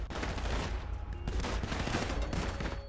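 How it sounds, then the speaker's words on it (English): Gunfire in GTA 5 aimed at a getaway vehicle, a rapid, dense burst of loud shots with a heavy low rumble, continuous for a few seconds with no pauses. "shooting the getaway vehicle until petrol leaks out, and then shooting the petrol the same time as you get into the car"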